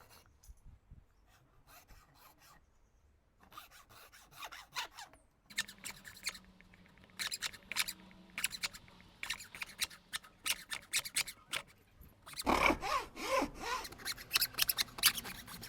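Hand sawing and rasping of wood while carving a socket into a wooden ladle, with irregular bursts of scraping and cutting strokes that grow louder and denser toward the end, heard alone without talk.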